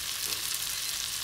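Steady broadband sizzle of beef sate noodles being stir-fried in a hot pan, a continuous even frying hiss with no voices over the short stretch.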